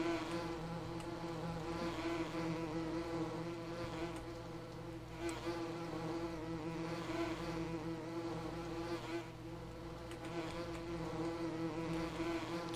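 In Farming Simulator 17, bees on a Kootenay Valley farm give a continuous dense buzzing drone, steady and close with a constant tonal hum beneath, and no talk over it.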